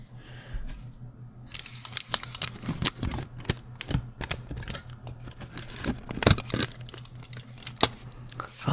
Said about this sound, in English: I'll be making some random noises with aluminum foil this time, and maybe keyboard noises to match the computers in the level.